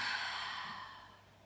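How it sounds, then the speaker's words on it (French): A slow exhale through an open mouth during a seated chair-yoga breathing exercise, one long breathy sigh fading gradually, close and fairly soft, with no talking. "Et on expire à bouche ouverte."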